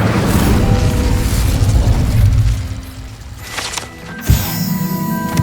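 An Incendio fire spell cast in Hogwarts Legacy, a loud, sustained whooshing roar of flame that fades, then a sharp burst of impact with a ringing magical tail.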